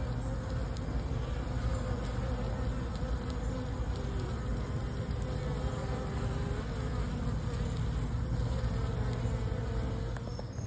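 Honeybees crowd the hive entrance, bringing in pollen, in a dense, continuous buzz of many wings that holds steady throughout with no talking.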